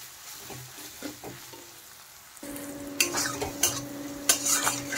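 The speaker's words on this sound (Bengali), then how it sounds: "নেড়ে দেব, মশলাটা ভালো করে কষিয়ে নেব" Ground cumin and coriander masala for chole is stirred and fried in a pan: quiet for the first two seconds, then a steady sizzle with a low hum begins, broken by repeated louder scrapes of the spoon.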